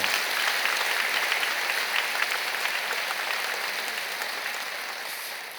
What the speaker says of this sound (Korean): 여러분 크게 박수로 격려하시지요